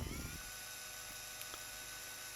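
A drill boring pilot holes in a guitar joint during a handmade guitar build, giving a steady high-pitched whine throughout with a brief low rumble at the start and no talking.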